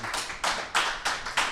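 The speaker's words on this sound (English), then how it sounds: "Everybody give him a round of applause." A short round of audience applause at a live podcast event, with hands clapping in uneven loud bursts close by.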